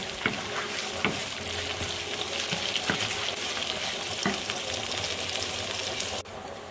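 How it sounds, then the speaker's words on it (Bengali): Chopped onion frying in oil with garlic in a frying pan while making a keema pasta: a close, continuous sizzle with periodic clacks of stirring, ending in a brief drop before the crackle resumes. "পেঁয়াজটা প্রায় ভাজা হয়ে গেছে,"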